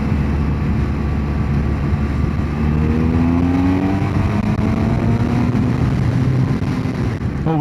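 A BMW F800GT motorcycle engine revs and pulls hard, its pitch sweeping upward then dropping as it shifts down to second gear, steady roaring throughout with no talking.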